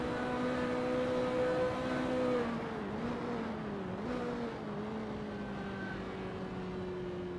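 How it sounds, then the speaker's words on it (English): Race cars in a racing video game at Kyalami '67, including a Ferrari F40, scream past with high revving engine whines that shift pitch as they go by, then settle into a steadier drone, loud and close. "There's not much better than sitting near here and watching the cars speed by."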